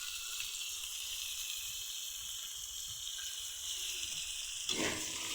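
Onions tipped over potatoes sizzle in a hot pan for a Chinese-style masala pasta, a steady soft hiss with a brief louder crackle near the end.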